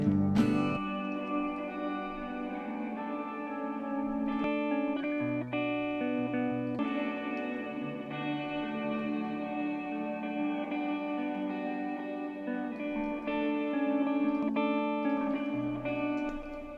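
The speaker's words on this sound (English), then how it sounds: "I'm gonna start with just adding a little reverb," An indie folk/pop music track with stereo reverb added, sustained tonal layers and a lush ambient wash holding steady at moderate level throughout, with no voices.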